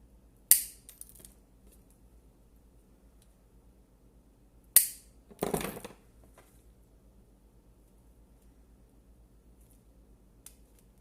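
Calla lily stems snipped for a bridal bouquet, heard as two sharp separate cuts with a short crunchy rustle after the second, set against near silence.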